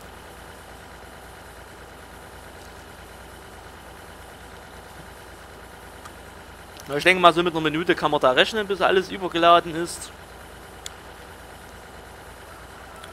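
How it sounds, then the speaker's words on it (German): A steady tractor engine hum from the Landwirtschafts Simulator 2013 farming game, with a John Deere overloading wagon unloading, runs low and even throughout, with someone speaking over it partway through. "Der Motorsound vom Trecker wird erhöht, sobald es hier überlädt."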